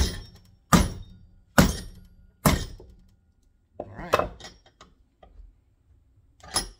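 Sledgehammer hitting a block of wood placed on a Shadow 2 Compact pistol in a drop-safety test: three heavy, evenly spaced thuds, then softer clanks and handling knocks.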